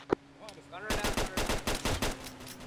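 Rapid automatic gunfire in ARMA 3, a close, loud string of about a dozen evenly spaced shots after a brief single crack and some radio-style voice chatter.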